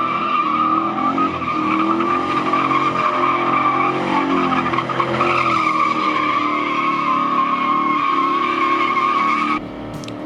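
Burnout from a car with an injected 5-litre engine at a drift day on an empty Sydney Motorsport Park track. The engine roars loud and steady while the tyres shriek continuously for about nine and a half seconds, then the noise drops off abruptly.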